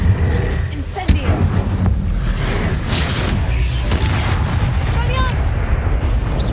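Fire spell cast in the Hogwarts Legacy video game, a dense, continuous roar of blasts and rumbling game effects with no clear gaps, loud and sustained throughout.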